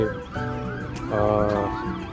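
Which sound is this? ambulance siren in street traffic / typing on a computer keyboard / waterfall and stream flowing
ambulance siren in street traffic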